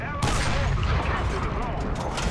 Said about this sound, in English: I'm firing at that Panzer IV.